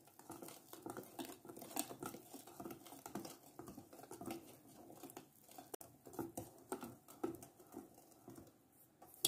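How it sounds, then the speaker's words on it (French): Pancake batter being stirred with milk in a bowl, a steady patter of soft wet taps and utensil clicks against the bowl, fairly quiet and close, with no talking. "Et on mélange."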